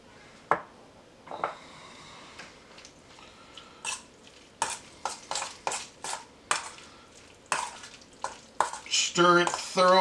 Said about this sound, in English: Stir it thoroughly. Coat the tomatoes and the onion and the cilantro with your smashed avocado.